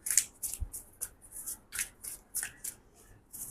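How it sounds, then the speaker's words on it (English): A deck of tarot cards being shuffled close up, a quick series of crisp riffling bursts with short pauses between them. "Let me give it a good shuffle."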